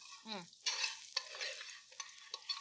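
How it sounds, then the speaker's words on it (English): Garlic sizzles and fries in a pan for creamy garlic shrimp linguini, a steady close crackle with intermittent stirring scrapes on top. "cook our garlic down just so it's soft"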